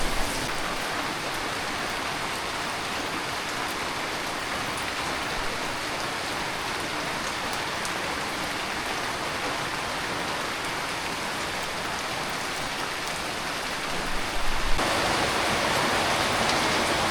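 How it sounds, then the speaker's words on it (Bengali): Heavy rain falls steadily outdoors on a morning in the countryside, a dense, even hiss of drops that swells slightly near the end, with no voices. "এ বৃষ্টি নামছে, কিচ্ছুই শোনা যায় না, বোঝা যায় না"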